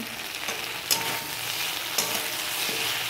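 Bengali fish curry masala being stirred and fried in a pan: a continuous close sizzle with two sharper scraping strokes of the spoon.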